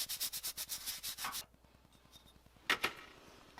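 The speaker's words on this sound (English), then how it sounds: "I'm just going to clean one side of it off with a Scotch-Brite pad to make sure there's no dust or" A Scotch-Brite pad scrubs one side of a copper enameling ornament in quick, rhythmic rubbing strokes for over a second. Quieter handling follows, then two short scraping sounds close by.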